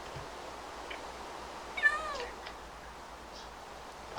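A cat in the video game Minecraft lets out a single short meow, faint and brief, over a quiet background.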